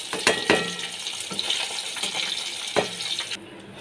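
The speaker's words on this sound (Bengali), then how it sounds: "একই তেলে আমি আলুগুলো ভেজে নিচ্ছি।" Potatoes frying in the same oil used for katla fish crackle softly in the pan, broken by several sharp metallic clinks and scrapes of a utensil against the pan, with no talking.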